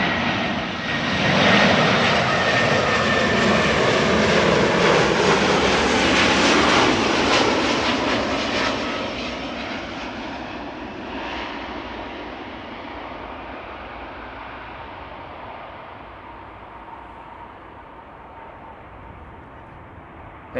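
A Lufthansa airliner in Star Alliance livery passes at an airport, its engines swelling into a loud broad roar, then slowly fading and thinning as it moves away, with no voices over it.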